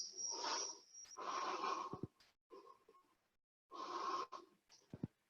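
Deep, audible breaths during an extended camel yoga pose come in two long airy bursts with a short pause between them, close and wheezy, with small clicks in between and no talking.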